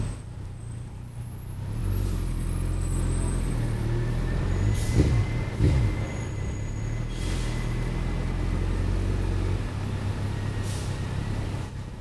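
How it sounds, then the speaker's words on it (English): Rush hour road traffic heard from a motorcycle on a long commute home: a steady low rumble of cars, trucks and buses close by, with a brief hiss like an air brake midway. "You're just gonna have to deal with the traffic"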